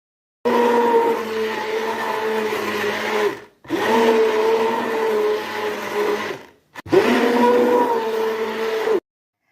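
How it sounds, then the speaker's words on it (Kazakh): A blender purees peeled tomatoes in three long bursts of steady, close motor whirring, each separated by a brief pause, with no talking. "Енді блендермен езіп аламыз."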